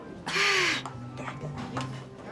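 Pet birds kept at the back of a house call out, one harsh caw-like cry up front followed by fainter chirps, heard amid room noise with people talking nearby.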